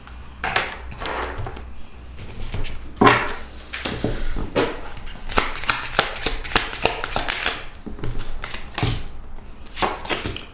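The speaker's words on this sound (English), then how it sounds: "I will do one last shuffle just to confirm that there are no more messages" Tarot cards being shuffled by hand during a reading, a busy run of riffling, slapping and sliding card sounds close up, with no one talking.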